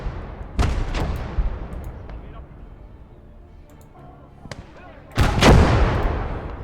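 Artillery fire in the Blood Red Snow wargame: two sharp, loud blasts with long rumbling tails, about four seconds apart, with distant scattered pops and a low battlefield rumble between them.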